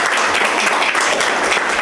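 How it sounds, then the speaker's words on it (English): Steady, dense applause from a room of guests at a chamber of commerce legislative luncheon at a country club, sustained clapping throughout with no talk. "Round of applause."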